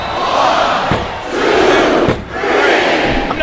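A loud arena crowd roars and cheers in the WWE SmackDown vs Raw 2007 wrestling video game on PS2 after a pinfall in a women's singles match, a steady, swelling wall of noise with no commentary over it.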